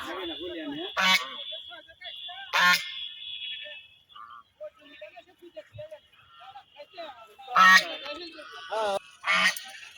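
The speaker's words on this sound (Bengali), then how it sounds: "এই যে রাজহাঁস" Loud honking calls from geese burst out in several separate groups, with quieter scattered sounds and faint voices in between.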